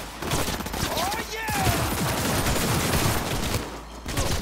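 Rapid bursts of gunfire in the video game Cyberpunk 2077, dense clattering shots in quick succession at moderate level, fading briefly before resuming.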